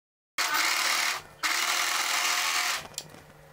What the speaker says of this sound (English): So I'm straightening that slit and I'm running through the overlock.